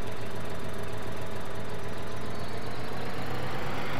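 A large combine harvester in Farming Simulator 2013 runs with a loud, steady engine drone and a constant rumble that never changes in level.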